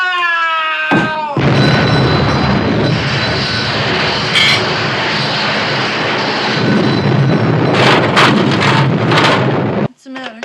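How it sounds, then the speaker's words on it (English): A bomb blast in a Pink Panther comedy film, a sudden huge roaring burst after a brief tonal lead-in, sustaining as a long rumbling wash with debris crackles before cutting off abruptly. "the bomb destroyed half the block"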